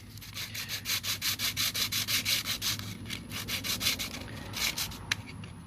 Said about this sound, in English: You just take your sandpaper